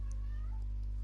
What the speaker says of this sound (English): Excuse the cats in the background if you can hear them.